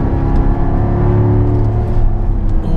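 A Magnuson-supercharged 600 hp C7 Corvette Z51 hums steadily from the cabin while driving, a dense, constant engine drone with faint whine and no talk over it.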